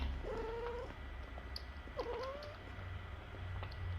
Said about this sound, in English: She's a feral cat.